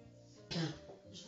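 A single short cough, followed by a quieter throat-clearing sound, comes from a woman leading a relaxation stretching class. The room is otherwise quiet.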